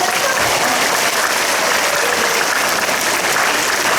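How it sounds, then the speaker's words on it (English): Children in an upper primary school assembly applaud steadily, a dense, loud wash of many small hands clapping without pause for the full length. "we can give him a clap"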